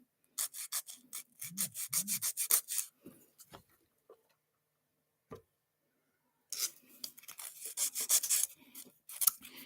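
Fingernails are hand-filed with a nail file, short rasping strokes in quick bursts, then a quiet pause with a few faint taps, then more rapid close scraping.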